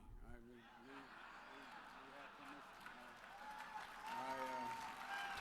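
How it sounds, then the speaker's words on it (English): Crowd cheering and applause at a politician's speaking event, a broad sustained roar heard somewhat distant beneath a voice speaking through the noise. "the crowd cheering"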